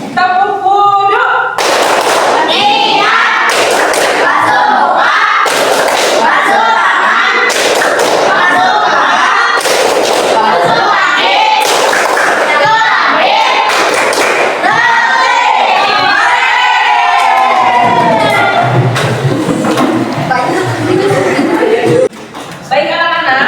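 Children performing the tepuk wudhu clapping chant in a classroom, loud group voices chanting in rhythm with bursts of sharp clapping through the whole stretch.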